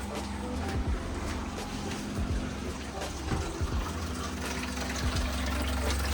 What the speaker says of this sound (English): now it's pumping water from the tank. That's how loud it is.